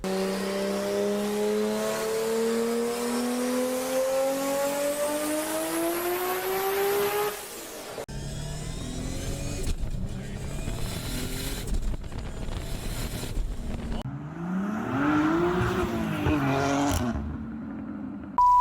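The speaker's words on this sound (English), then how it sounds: "the sound of an inline 6" An inline-six car engine's exhaust revs with a steadily rising pitch, then gives way to other loud passages of the engine running and pulling hard.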